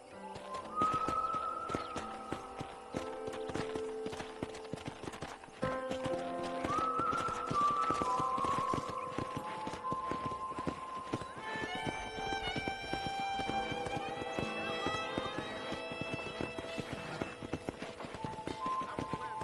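Horse hooves clip-clopping at a steady riding pace on a ranch in the Red Dead Redemption video game, with a continuous musical score running alongside throughout.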